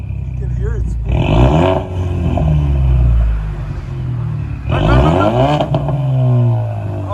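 A 2017 Ford Mustang EcoBoost turbo with dual exhaust straight pipes revs twice, each throttle blip rising into a loud raspy roar before falling back to a rumbling idle, recorded close to the exhaust.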